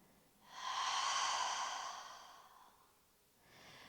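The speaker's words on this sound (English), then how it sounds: "inhale through the nose. And exhale all the way out." A slow, breathy exhale through the mouth during gentle yoga breathing for anxiety lasts about two seconds, close and soft, and is followed by the start of another quieter breath.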